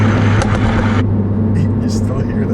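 Exhaust drone of a 2014 Mini Cooper S while driving, a steady low hum heard from inside the cabin that eases off partway through, with voices talking over it.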